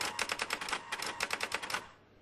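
Keys of a typewriter clack in quick bursts of separate strikes, crisp and fairly close, with a brief pause midway before the run of keystrokes fades into quiet. No one speaks.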